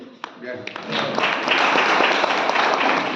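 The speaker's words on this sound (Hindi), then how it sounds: "तो ये जो ताली आपने बजाई है वो आप अपने आप के लिए बजाइए" Audience applause fills a Hindi devotional birthday gathering, starting sparse with a few claps and swelling into a loud, dense, sustained ovation.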